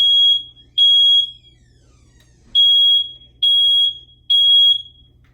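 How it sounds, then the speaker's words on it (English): A loud, piercing smoke alarm sounds its test beep five times in an uneven pattern, each long shrill tone separated by short silences. "So that's what your smoke detector should sound like."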